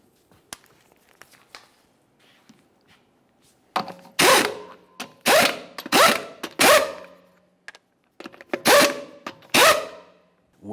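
An impact or power tool spins 22mm lug nuts onto a Buick Enclave wheel in a series of short, loud whirring bursts separated by pauses, close by.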